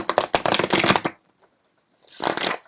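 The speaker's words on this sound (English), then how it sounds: "shuffle the cards." A deck of playing cards riffle-shuffled twice up close, each a loud, dense burst of rapid fluttering card slaps lasting about a second, separated by a short near-silent gap.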